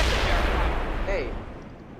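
Heavy artillery fire in the real-time strategy game World in Conflict: a loud, rumbling blast with a low, booming tail that fades away over about two seconds.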